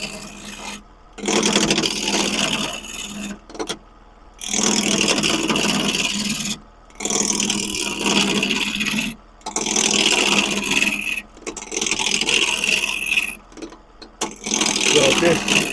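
A wood lathe spins a turning blank at roughly 600 RPM, giving a steady rubbing, rasping scrape in long passes broken by brief pauses, close and fairly loud with no talk over it.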